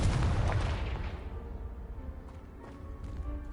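A Confringo blasting spell detonates against a pile of debris in Hogwarts Legacy, a loud booming blast at the start that decays into a rumbling, crackling tail with scattered falling-rubble clatter.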